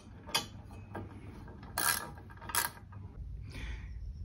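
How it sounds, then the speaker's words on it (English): Lag bolts being driven into a wooden board for a kayak hoist installation, faint short bursts of ratcheting and clicking with quiet gaps between them. "And now we just drive in these lag bolts."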